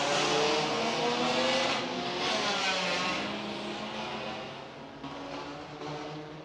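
Touring cars and Superstocks of the Indian Touring Car Championship roar together at a race start, a loud, dense wash of revving engines that slowly thins as the field pulls away.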